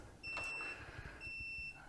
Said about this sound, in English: Everything sounds the same with the beep